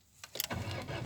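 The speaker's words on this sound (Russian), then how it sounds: "Заводим машину." A car engine starting on a vehicle with a lit check-engine light and high idle fault P0507, a brief whir and clatter of the starter followed by the engine catching into a steady running drone.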